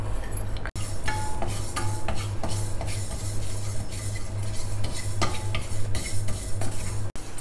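Little millet and moong dal dry roasting in a pan, stirred with a metal spoon, giving continuous scraping and clinking over a faint sizzle, with no one talking.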